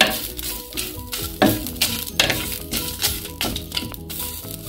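Grated coconut is stirred and fried in a pan for a chayote squash curry, sizzling steadily. Repeated scraping strokes of a spoon land at an irregular rhythm over the frying hiss, close by and fairly loud, with no talking.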